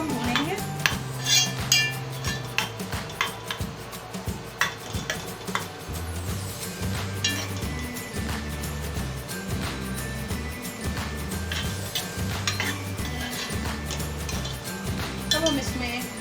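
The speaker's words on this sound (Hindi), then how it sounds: "थोड़ा सा चम्मच चलाते हैं।" A spoon stirs and scrapes khara masala chicken frying in a cooking pot, giving close metallic clinks and scrapes at an irregular rhythm over a steady background.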